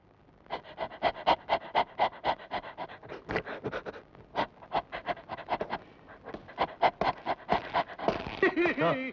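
A voice imitates a dog, puffing out rapid rhythmic panting breaths close to the listener, ending in a few yelping whimper-like sounds.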